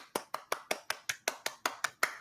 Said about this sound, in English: clap from down the hallway